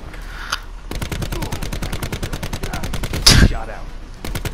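ICR assault rifle fire in the video game Call of Duty: Black Ops 4, a loud, rapid, steady automatic burst lasting several seconds with a sharp blast near the end, followed by more shots.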